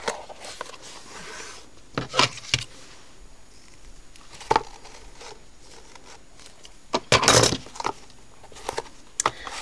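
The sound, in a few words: scissors cutting ribbon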